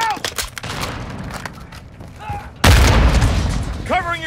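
A frag grenade blast and gunfire in Call of Duty Modern Warfare 2: scattered shots and rattles, then a sudden loud boom that rolls on, with game voices calling out over the fighting.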